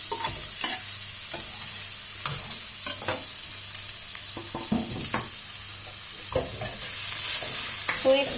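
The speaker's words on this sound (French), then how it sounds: "Cuire bien pour changer jusqu'à les oignons changer les couleurs." Ginger, garlic, green chillies and onions fry in a pan for a chickpea curry, with a steady close sizzle under repeated scraping stirs of a utensil and no talking.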